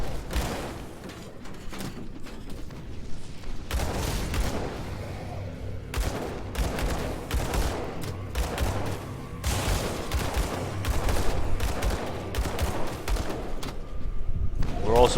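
Mortar rounds firing and exploding in Grim Dawn combat, a rapid series of loud booming blasts and thuds layered with game effects, continuous throughout with someone talking over the action.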